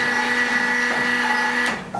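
A metal lathe with a 3-jaw chuck switched on, its motor giving a steady tonal whine that shifts pitch near the end, close and alone.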